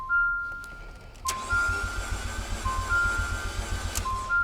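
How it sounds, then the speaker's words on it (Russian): An Abarth 500 with a MultiAir engine, left standing a long time, cranks over without catching: a steady starter churn runs for about three seconds after a click, close and fairly loud, with a faint warning chime beeping over it. "Сейчас попробуем его завести."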